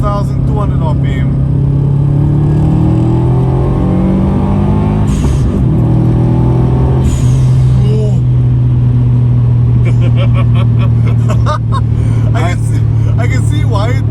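Subaru WRX STi tuned past 300 kW pulling hard in third gear at about 4,200 rpm on a straight road, a loud steady engine drone rising in pitch close up, with someone talking over it throughout.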